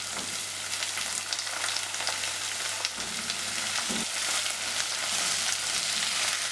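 Chopped bitter gourd for a carrot pickle hits a hot pan of wilted aromatics and sizzles loudly and continuously up close, with a couple of dull knocks from the pan midway.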